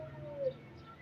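A pigeon gives a single short coo close by, perched near a trap net in the early morning, with steady low background hum and no talking.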